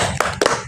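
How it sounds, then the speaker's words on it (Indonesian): Two sharp hand claps about a fifth of a second apart, a quick 'tepuk semangat' cheer clap led by a teacher in a group guidance session with students, close and fairly loud. "Tepuk tangan untuk kita semuanya."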